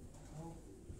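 A brief, soft cooing of rooftop pigeons, low and murmuring, over faint background noise.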